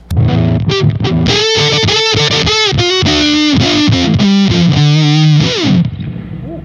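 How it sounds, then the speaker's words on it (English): Electric guitar run through a fuzz effect, played as a loud, saturated sustained passage with shifting bent notes and chords, dense and buzzy throughout before cutting off near the end. "That was the fuzz for sure."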